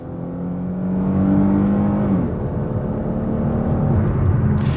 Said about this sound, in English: shift with this nice big shifter manually yourself just like this, climbing through the gears